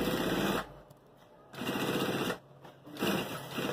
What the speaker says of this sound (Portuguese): Aí eu venho e vou costurando, ó.